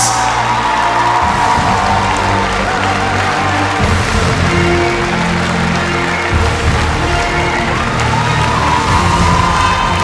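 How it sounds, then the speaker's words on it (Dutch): A large crowd in an indoor equestrian arena cheers and whoops loudly for the horse of the year, a dense continuous roar of voices with scattered shouts, sustained throughout. "Juichen nog eens toe."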